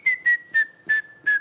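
A series of five evenly spaced, steady, clear whistled notes, sounded alone, imitating the call of a grey-headed woodpecker to lure the birds in.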